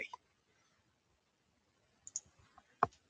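A computer mouse gives a few faint, close clicks while a Power BI report is being formatted: one pair at the start, then a small scattered cluster near the end, with near silence between.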